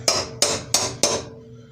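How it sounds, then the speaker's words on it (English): A 1/2-inch drive ratchet, used while moving an MTD motor onto a different mower deck, gives four sharp, evenly spaced metallic strikes. Each one is loud and close and rings out briefly before the next. "1/2-inch drive ratchet"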